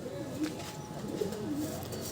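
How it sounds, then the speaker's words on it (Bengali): A giribaz tama pigeon coos in soft repeated throaty burbles, close but faint, over a low background murmur without clear talk. "এরা কিন্তু একদম গিরিবাজ তামা পায়রা"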